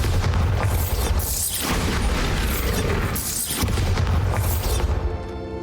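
An explosion spell cast in the Hogwarts Legacy video game, loud booming blasts with cracking, shattering debris and mechanical rumble across several surges, fading into a softer tail with no one talking.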